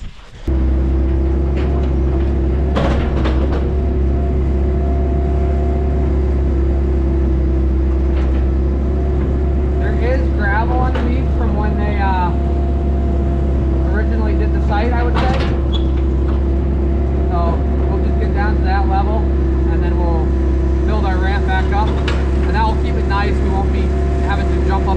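A mini excavator engine runs at a steady, loud diesel drone close by throughout, with voices talking over it at times.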